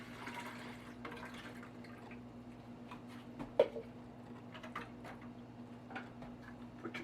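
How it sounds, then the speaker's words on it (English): Bottled water is poured into the reservoir of a Keurig coffee maker, a faint, steady trickle and splash over a low room hum, with one brief louder plop midway and no talking. "Fill it up with your bottled water."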